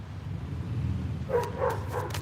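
A dog barks a few times at moderate distance outdoors in a garden, three short barks spaced across the second half over steady low background rumble.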